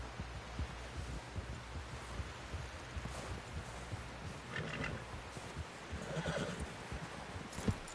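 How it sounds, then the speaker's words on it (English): Faint horse sounds from the video game Red Dead Redemption 2: a whinny and the soft clip-clop of hooves against a noisy background, fairly distant and low in level. "Someone help John down off this horse."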